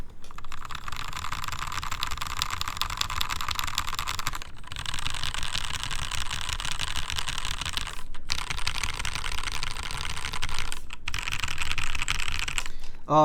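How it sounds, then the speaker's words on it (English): Fast, continuous typing on a mechanical keyboard with Gateron Milky Top linear switches, lightly lubed, giving smooth, muted keystrokes, broken by a few short pauses, close up and fairly loud. "So this one has these Milky Top Gateron switches."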